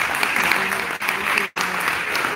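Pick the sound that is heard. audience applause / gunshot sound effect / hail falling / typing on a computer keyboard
audience applause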